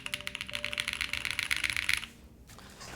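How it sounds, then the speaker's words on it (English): Fast, close typing on a deep, mellow-sounding mechanical keyboard, a quick run of soft clicky keystrokes that stops abruptly after about two seconds, leaving faint room noise. "This is a mellow keyboard if I've ever heard one."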